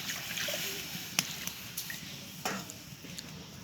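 Water poured into a wok set on a lit stove, a faint splashing and sloshing with a few soft splats, close by and without talking.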